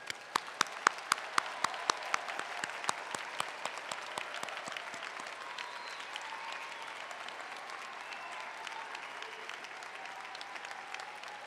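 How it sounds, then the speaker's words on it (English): A commencement audience applauds its standing graduates at a December university ceremony, with sharp individual claps up front in the first seconds that merge into a steady, sustained wash of clapping from a large hall. "And let's give them a round of applause."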